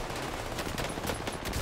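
Gunfire in the video game Warzone, rapid automatic bursts that crackle steadily through a dense, loud game mix with no talking.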